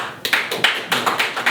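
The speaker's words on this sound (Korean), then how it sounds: "다시 한번 박수로" Short burst of audience applause at a citizens' forum on the Fourth Industrial Revolution, heard as a few sharp, separate claps close by rather than a full ovation.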